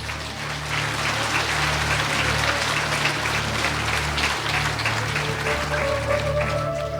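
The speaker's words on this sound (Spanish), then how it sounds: "Fuerte aplausos, Iglesia de Cristo." A church congregation applauds during a Christmas service, steady dense clapping over a constant low hum, continuing without pause throughout.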